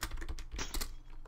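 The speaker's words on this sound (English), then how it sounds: "No, this stupid keyboard." Rapid clatter of keys on a computer keyboard during a Minerware gaming session, a quick burst of close, irregular keystrokes with no talking.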